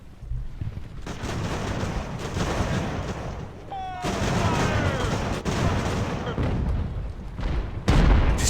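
Cannon fire in Ultimate Admiral: Age of Sail rolls on as a continuous, heavy battlefield barrage of booming reports with rumbling overlap, with a few thin whistling streaks and a louder blast near the end.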